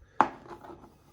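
One sharp knife chop on a board cuts potatoes into small pieces, a single quiet thud with a short fade.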